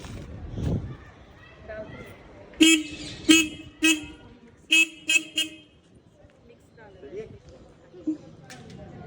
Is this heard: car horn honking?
yes